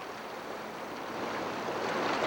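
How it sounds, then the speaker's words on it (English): A jet-propelled boat with a water-pump drive and no propellers climbs a small rapid on a Nepal river, a steady, close rushing wash of water and engine noise that swells slightly louder toward the end. "Here we see the boat ascending a minor rapid."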